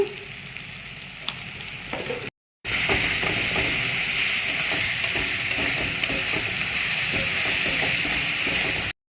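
Masala for egg curry sautéing in a pan, a loud continuous sizzle with repeated stirring scrapes that briefly drops out before returning just as strong.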